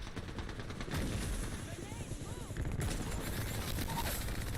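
Rapid automatic gunfire in the Apex Legends battle royale game, dense and continuous near-field bursts with game effects, and a voice talking over it.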